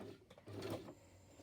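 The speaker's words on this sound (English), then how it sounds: "you're just resting your hands on the piece and letting the sewing machine go through" A sewing machine stitches through book pages for a notebook, giving faint short mechanical bursts of rapid needle clatter with brief pauses between.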